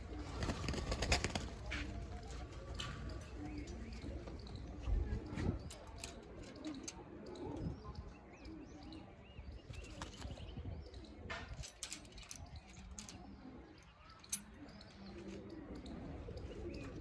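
Soft coos from caged pigeons repeat among other bird calls, with occasional voices and rustling nearby throughout.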